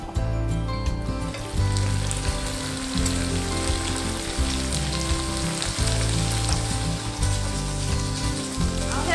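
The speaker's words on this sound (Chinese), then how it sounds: "倒入一点香油，然后我们先把我们的烟熏豆包煎到金黄" Smoked tofu skin fries in a little sesame oil in a pan, giving a steady, close, dense sizzle and crackle that runs throughout with slight surges in loudness.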